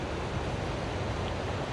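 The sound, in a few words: water rushing from the Leaburg Dam release on the McKenzie River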